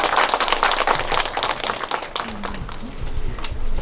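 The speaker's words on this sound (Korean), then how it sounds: "큰 박수로 맞이하겠습니다" An audience at a district council policy forum claps to welcome a university professor, a dense burst of steady applause that fills the room for several seconds.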